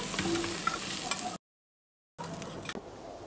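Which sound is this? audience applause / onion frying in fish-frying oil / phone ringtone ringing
onion frying in fish-frying oil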